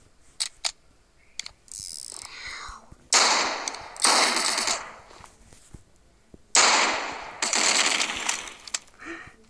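Rapid gunfire from weapons in the Hypper Sandbox video game, crackling bursts of shots in clusters with short gaps, close and loud.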